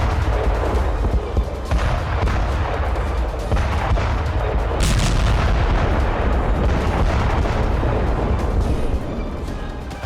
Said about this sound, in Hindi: रशियन ब्रिगेड ने यूक्रेन के खिलाफ टीओएस शॉक वेव बम से भीषण अटैक किया